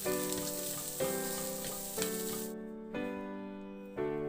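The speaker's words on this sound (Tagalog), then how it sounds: "Maglagay na rin ako ng kunting mantika at ilagay ko na yung bawang." Garlic frying in a little oil in a pan, a steady close sizzle with soft stirring clatters roughly once a second.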